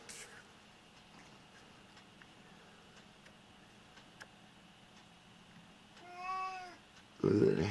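A lynx hybrid cat gives a rising meow indoors at bedtime, a single clear harmonic call near the end, followed by a louder burst of close handling noise over a quiet room hum.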